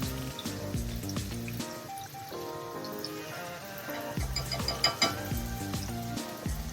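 Garlic and turmeric frying in a pan as the base for Indian dal: a steady sizzle runs under a prominent tonal melody of background music throughout.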